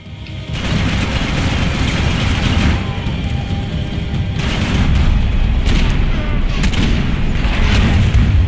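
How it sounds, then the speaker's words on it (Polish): Continuous heavy gunfire in a Max Payne 3 firefight, loud dense bursts and booming shots over a constant roaring din, with no voices. "No cały czas do niego strzelam."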